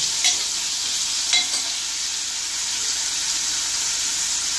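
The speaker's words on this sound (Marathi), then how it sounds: "आता त्याच्यामध्ये एक छोटा चमचा मीठ आणि ते मिक्स करत आहेत." Salt is stirred into a Bombay duck curry in a pan, with a bright, steady sizzle-like hiss and a couple of faint spoon clinks, close and continuous.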